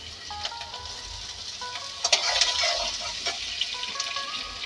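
Chopped onion and garlic hit hot oil in a pan, giving a bright crackling sizzle that swells and then holds steady, with a few louder pops and stirring scrapes.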